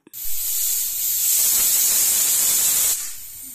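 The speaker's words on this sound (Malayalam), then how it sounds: "ഇപ്പോൾ കുക്കറിൻ്റെ പ്രഷറെല്ലാം പോയി കഴിഞ്ഞു" A pressure cooker of turmeric and pepper seasoned vegetables for Kerala kalan vents its steam in one loud, steady hiss lasting nearly three seconds, then cuts off sharply, close and alone.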